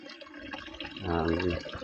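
Water from a hose gushes and splashes at moderate volume. It grows stronger and fuller midway through, then eases slightly, with faint background sounds.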